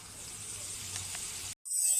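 Poppy seed paste and tomato fry in a pan for a vegetarian ridge gourd posto dish, giving a steady soft sizzling hiss that briefly cuts out and then resumes.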